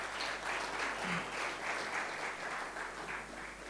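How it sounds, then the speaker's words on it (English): An audience applauds as two speakers are welcomed onto a stage at an innovation talk, a steady, moderately distant patter of many hands clapping with no talking over it. "Guys, if you can please give them a warm applause."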